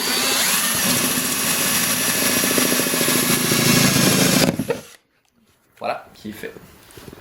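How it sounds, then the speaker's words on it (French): A power drill with a 3/4 inch bit bores through a plastic grow tray, a loud, steady grinding whine that stops abruptly, followed by brief handling noises and talking. "ça va prendre une perceuse et ça va prendre une mèche de 3/4 de pouce."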